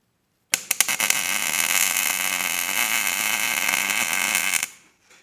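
MIG welding a vertical down joint, a steady loud buzzing crackle of the arc that starts with a few sharp pops, holds for about four seconds and then cuts off.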